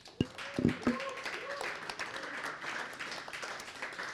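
Audience clapping at a mental health town hall, starting with a few sharp claps and settling into a steady round of moderate applause with some voices mixed in.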